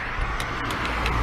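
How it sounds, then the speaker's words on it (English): A car approaches from behind two riders on Ariel Rider X Class 52v electric bikes on a road, a steady low motor and tyre rumble rising slightly, with no talk over it. "There's a car coming behind us."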